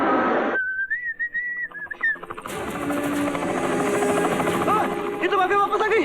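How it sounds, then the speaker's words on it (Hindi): A helicopter passes overhead in a tense action-film scene, its loud droning rotor noise filling the background while voices shout and a whistling tone sounds over it. "अरे हेलीकॉप्टर, हेलीकॉप्टर।"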